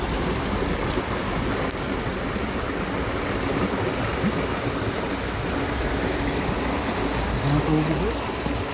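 Floodwater from heavy rain rushes down a mountain stream in a dense, continuous roar, loud and close throughout, with no pauses or other sounds breaking through.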